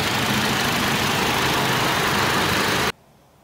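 Four-cylinder 2.7-liter engine of a Toyota Tacoma idles with a steady, dense roar under the open hood, holding even for nearly three seconds before cutting abruptly to quiet.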